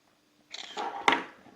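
Nokia E51 phone camera taking a photo, a short synthetic shutter sound ending in a sharp click, brief and close in a quiet room.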